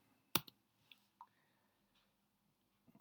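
A single sharp press of the Enter key on a computer keyboard, loud and close, followed by a few faint clicks in an otherwise quiet room.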